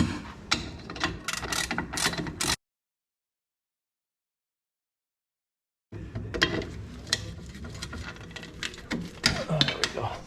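Metal clicks and rattles from freeing the brake cable on the rear drum brake of a 1971 VW Super Beetle, in irregular close taps and scrapes, with a silent gap in the middle.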